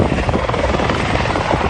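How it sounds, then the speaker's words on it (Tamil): A helicopter lands near a lakeside restaurant in Michigan, its rotor and engine roaring loud, steady and close throughout. "ஏரிக்கரை அருகே தரையிறங்கிய ஹெலிகாப்டர் தட்டு தடுமாறி விபத்துக்குள்ளானது"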